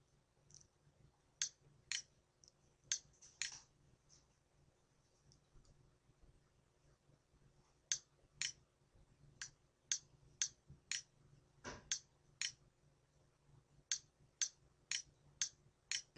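Computer mouse clicks on a PC running OPC software, sharp isolated clicks in irregular bursts, some in quick runs, close and clear against a quiet background.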